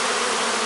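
Honey bees buzz in a dense, steady swarm at a hive that is failing, a loud, continuous close-up drone with no break.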